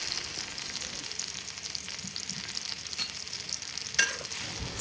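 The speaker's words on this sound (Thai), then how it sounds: "จากนั้นก็ผัดทุกอย่างให้เข้ากันค่ะ" Quiet, steady sizzling as chili paste is stir-fried in a pan, with soft scraping as it is stirred, and a sharper clatter near the end.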